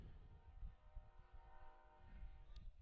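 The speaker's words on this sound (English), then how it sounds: "And the train lets us know that it's around." A train horn sounds in the distance as a long, steady, faint tone during a high school varsity baseball game, with quiet ballpark ambience around it.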